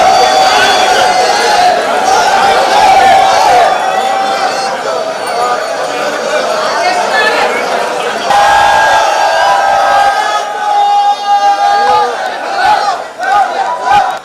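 Festive crowd cheering and shouting at the flag hoisting of Thrissur Pooram, a temple festival, with devotees and temple officials joining in; a dense, continuous roar of voices that stays loud throughout, with a few louder calls rising above it.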